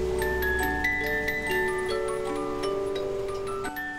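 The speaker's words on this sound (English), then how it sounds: "because they tick, they tell time, they chime" Antique clocks tick in a steady rhythm while sustained chime tones ring and overlap, clear and close with no voices.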